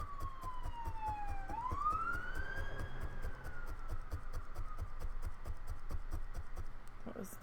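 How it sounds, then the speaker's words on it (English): A police siren sweeps down then climbs again, clearly audible over constant busy-road noise and a steady rhythmic thud. "That was 2 sets of sirens."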